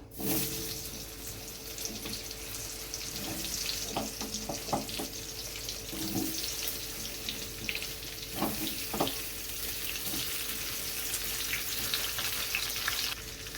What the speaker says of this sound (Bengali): কাঁচকলাগুলো একটু ভাজা ভাজা করে নেব।